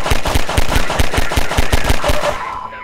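Rapid automatic gunfire in Half-Life 2, a loud, steady stream of close shots with rhythmic bursts that fade near the end.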